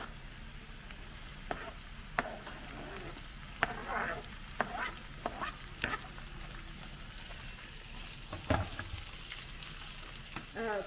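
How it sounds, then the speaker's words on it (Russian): Hot and sweet bell peppers fry in a borscht sauté with a soft, continuous sizzle, punctuated by occasional spoon clicks and stirring scrapes, quiet and close. "в нашу поджарку мы добавляем 2 вида перца. Острый перец и болгарский,"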